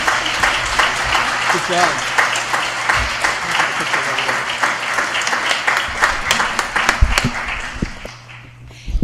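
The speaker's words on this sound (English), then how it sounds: "If we could get a round of applause for our panelists today, they did a great job." Sustained audience applause for conference panelists at an animal-welfare conference, steady and dense for about eight seconds before tapering off, with a brief spoken comment near the end.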